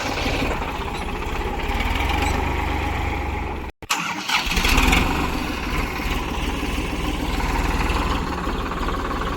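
A farm tractor engine runs loud and steady nearby on an outdoor farm plot, with a brief dropout midway before the rough mechanical drone resumes and continues without pause.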